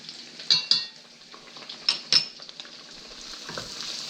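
Garlic frying in a pan for garlic noodles, a steady soft sizzle broken by a few sharp utensil scrapes and clinks against the metal, close and quiet with no talking.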